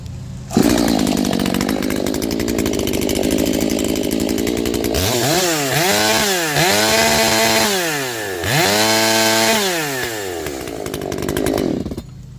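A ported Echo chainsaw with a 620 coil, modified carburetor and C83 chain roars loud and close, holding steady at first, then revving up and down repeatedly in sweeping bursts.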